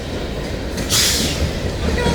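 A two-engine CP freight train hauling tanker cars passes in Winona, Minnesota, giving a steady, loud rumble of rolling rail traffic with a brief brighter swell partway through.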